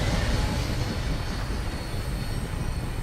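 Vertibird aircraft from Fallout 4 lifting off, a steady loud broadband engine and rotor roar with heavy low rumble that holds constant and close throughout, no voices.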